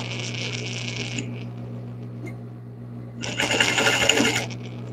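An electric sewing machine stitches the crotch seam of a felt bunny in two close, steady bursts separated by a short pause, over a constant low motor hum.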